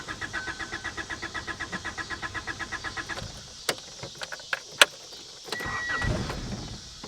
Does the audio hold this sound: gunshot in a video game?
no